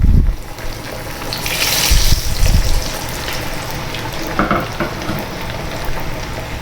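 Two or three coated fish pieces, given an egg coating, hit hot oil in a home kitchen, bursting into a loud, dense crackling sizzle that keeps bubbling steadily throughout.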